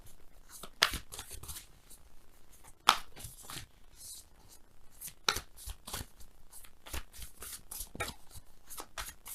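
Tarot cards are shuffled and pulled in quick, soft riffling bursts, with crisp card snaps breaking up the quiet between them, close and gentle.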